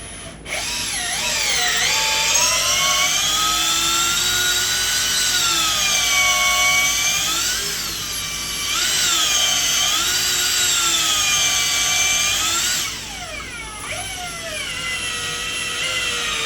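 A power tool drives a bolt into the crankshaft damper of a HEMI engine with an ATI Super Damper. Its loud, continuous whine rises and dips in speed several times, close and without talk.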